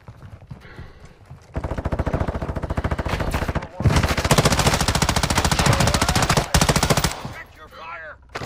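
Rapid automatic gunfire in the tactical shooter Vondel, loud and close, with dense sustained bursts of steady repeating shots broken by brief pauses, ending in a faint trail of speech.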